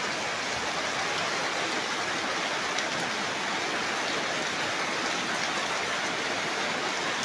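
Steady afternoon rain falls in a constant dense hiss of drops, even and unbroken, with no voices.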